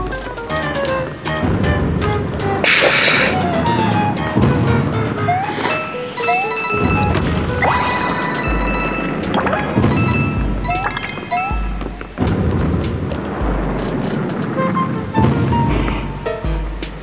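Objects get smashed in the Paper Mario Color Splash video game, with repeated crunching crashes and thwacks layered over game music and effects, busy and loud throughout.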